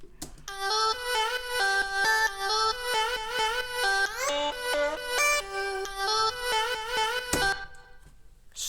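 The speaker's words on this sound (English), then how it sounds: "here's what the vocal chop itself sounds like" Vocal chop sample in a music production, a bright, pitched synth-like melody of short repeated chopped notes in a bouncy rhythm, played alone and up front before stopping abruptly.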